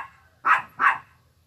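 A dog gives two short, loud barks close by, evenly spaced, with quiet around them and no talk.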